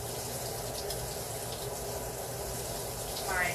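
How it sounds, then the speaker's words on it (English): Hot tap water runs steadily onto a glass jar in a kitchen sink, a close, continuous rushing stream lasting throughout with no talk. "let me put some hot water on it"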